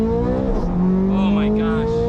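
A Ferrari 430 Scuderia with its 503 hp engine accelerates hard, giving a loud, steady, rising engine tone heard from inside the car. A brief voice comes in partway through.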